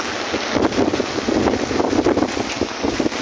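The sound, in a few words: strong wind during heavy rain in Dhaka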